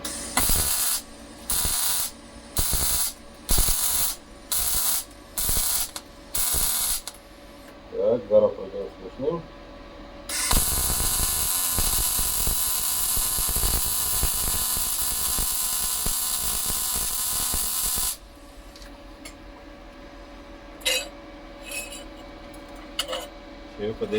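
A GTM MIG welder lays a series of short tack welds at 17 volts, crackling in brief evenly spaced bursts before running in one long sustained sizzle, with a few sparse clicks and pops afterward.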